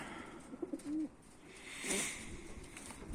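A pigeon, wet from a bath, gives soft, low coos in a short burst near the start, followed by a brief louder flutter-like rustle, all faint and close in a quiet room.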